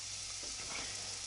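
Garlic mushrooms fry gently in a pan, giving a soft, steady sizzle with a faint hiss and no voices.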